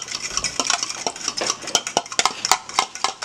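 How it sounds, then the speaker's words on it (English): An egg is beaten with a utensil in a bowl, giving rapid, irregular clinking and scraping strokes close up, with no talking. "So we're going to beat the egg."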